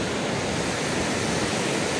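Surf rolling onto a beach as the waves grow large, a constant broad roar of breaking water with wind, steady and fairly close, no voices.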